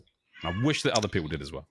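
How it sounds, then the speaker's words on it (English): A pet cat meows loudly indoors, a drawn-out, wavering cry lasting over a second, heard over a man's speech. "That's my cat in the background"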